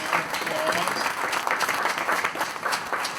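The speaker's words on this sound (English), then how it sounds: "Let's give her a big applause" A crowd at a residence grand opening applauds the project's architect, a continuous, full round of clapping heard close, with murmuring voices mixed underneath.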